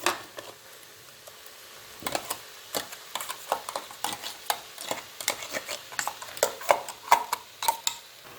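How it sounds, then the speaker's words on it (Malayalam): Thick ground paste of coconut, chili and garlic going into a pan of jackfruit curry, with scattered wet plops, scrapes and clinks that quicken and grow louder after the first couple of seconds, without any talk. "അപ്പോൾ നമുക്ക് അരപ്പ് ഇതിലേക്ക് ഇട്ട് കൊടുക്കാം."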